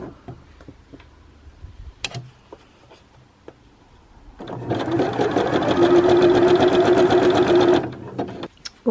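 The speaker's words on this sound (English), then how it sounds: "you can flip the pieces over and sew the other side, all in the same chain" A sewing machine chain-stitches fabric face mask pieces in one steady whirring burst of about three seconds, loud and close. Light clicks and handling noises come before and after it.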